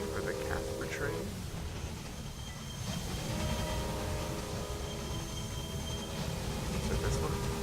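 Trains running in the railway-building simulation game Railway Empire: a continuous rumbling rolling noise with faint wheel squeal and thin tonal whines, steady and moderately loud throughout, with a voice talking over it.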